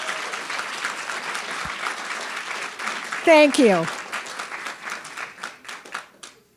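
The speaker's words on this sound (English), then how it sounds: "Now it's time for applause." An audience at the UCSC Grad Slam 2019 event applauds in a dense, even wash of clapping that tapers off into scattered claps near the end, while a voice briefly speaks over it.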